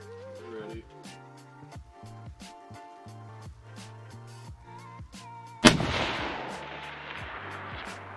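A single loud, sharp long-range rifle shot cracks out mid-clip in a snowy blizzard, with a decaying roar of echo after it. Spotter and shooter talk quietly in the moments before the blast.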